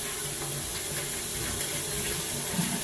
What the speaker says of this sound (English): That's water coming by. I just flushed the toilet to try to kind of clear some of the sludge out of here.